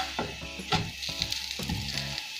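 A masala dosa sizzles on a hot street-style griddle as it is turned, with steady frying hiss broken by scraping and clattering spatula strokes.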